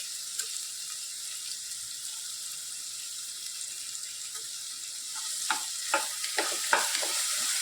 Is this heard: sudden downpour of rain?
no